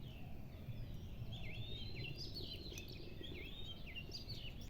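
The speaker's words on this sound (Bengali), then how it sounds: "দেখুন কত সুন্দর পাখি ডাকছে" Several birds chirp and trill in quick, repeated calls outdoors, layered over a steady low background murmur, moderately close and continuous throughout.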